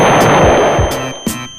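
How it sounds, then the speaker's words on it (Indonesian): Explosions in the Minecraft video game, a burst of loud, sharp blasts in quick succession, close and punchy with rumbling decay, no talking. "Karena kesalahan ini terjadi ledakan."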